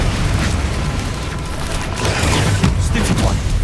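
A Confringo spell bursts in Hogwarts Legacy on PS5, a loud, rumbling blast with crackling pops over continuous combat noise.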